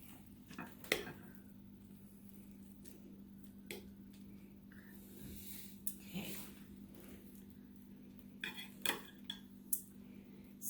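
Cooked meatloaf being cut up for serving gives faint scattered clinks and scrapes of cutlery on a plate, quiet and intermittent over a low steady hum.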